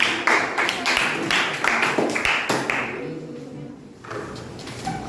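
Classroom applause for a student group: a short burst of hand clapping and taps from a small crowd of students, fading out after a few seconds into quieter room noise.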